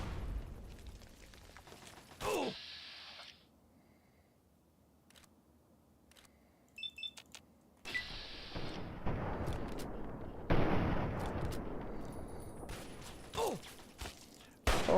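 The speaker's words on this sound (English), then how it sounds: "I shoot that guy." Gunfire in Fallout 3: several loud, sharp broadband bursts at irregular intervals, separated by quieter stretches of low ambient hum with faint mechanical clicks.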